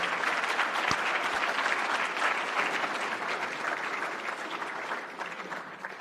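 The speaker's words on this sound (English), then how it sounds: "I think we should give a round of applause for Victor for his leadership" A seated audience gives sustained, even applause for Victor's leadership at a new member induction ceremony, dense clapping that holds steady throughout and eases slightly toward the end.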